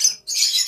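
A lovebird, one of a breeding pair, gives two quick, harsh squawks close by, the second longer than the first.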